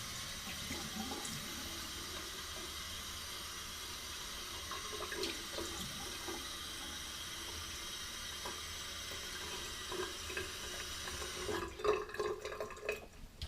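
Tap water runs steadily into a sink while a man wets his face before a wet shave, a continuous close splashing stream with a few drips and louder splashes near the end, no talking.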